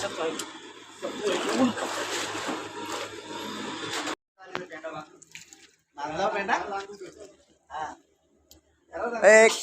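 Hot spring water splashes around people bathing in a steaming natural pool at Aravali on the Mumbai–Goa highway, in bursts of sloshing and dripping broken by pauses, with voices talking nearby.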